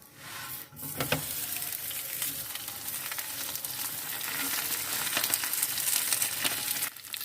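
Aloo paratha frying in desi ghee on a hot griddle, a steady close sizzle that holds for the whole stretch with a brief soft clatter near the start and no talk over it.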